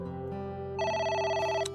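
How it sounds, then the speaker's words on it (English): Telephone ringing in the video game AI: The Somnium Files, a steady electronic ring with bright repeating tones that grows fuller partway through, heard alone with no talk. "It's the phone. Maybe try picking it up?"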